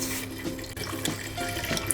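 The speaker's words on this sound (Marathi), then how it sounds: "त्यामध्ये थोडं पाणी घालायचं आहे" Water is poured onto roasted dried Bombay duck fish in a kitchen vessel for a potato curry, a steady close splashing flow that runs without pause for about two seconds.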